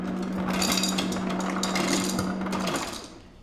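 Ice cubes clatter into a glass in a home kitchen, a run of sharp clinks and knocks over a steady low hum, fading off near the end.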